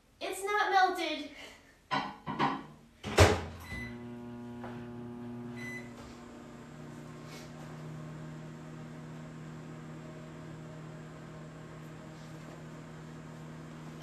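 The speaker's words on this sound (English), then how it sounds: "So I'm going to put this one in the microwave" A microwave oven hums steadily after a few beeps and door clunks, a low, even drone running for about ten seconds, with someone talking briefly at the start.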